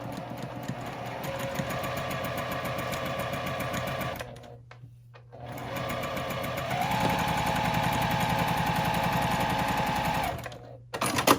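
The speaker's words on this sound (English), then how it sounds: "So I'm just going to sew this side, these two together." A sewing machine stitches two fabric pieces together with a quarter-inch seam, running in a steady fast whir with a brief pause midway, then picking up again and stopping near the end, close and alone.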